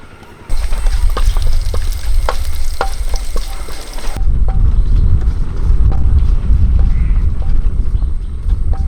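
Cinnamon, cardamom, peppercorns and fennel seeds frying in hot mustard oil for egg curry, a loud close sizzle that starts abruptly and keeps crackling steadily with light stirring clicks and no talk.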